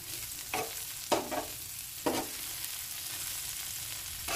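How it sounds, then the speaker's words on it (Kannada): Ivy gourd fries in a pan over a steady sizzle, with a few distinct scraping stirs of a spatula in the first half, close and clear with no voices. "ಸೈಡಲ್ಲಿ ಇದ್ದದ್ದು ಫ್ರೈ ಆಗಲಿಲ್ಲದಿದ್ದರೆ ನಡುವಿಗೆ ಹೀಗೆ ತಂದು ಫ್ರೈ ಮಾಡ್ಕೊಳ್ಬೇಕು."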